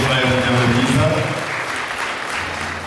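Applause at a wedding: a crowd claps steadily and loudly, with music and voices mixed in at first, then the clapping continues as a dense, even roar.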